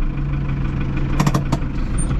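Tractor engine idling steadily during sorghum and sunflower sowing with an old seeder, a low continuous hum joined by a few short clunks and knocks.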